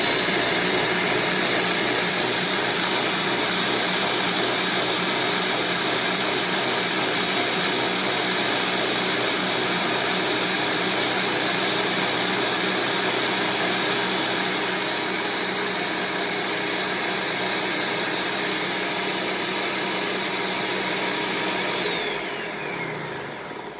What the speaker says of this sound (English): All right, and then we're just gonna power and blend.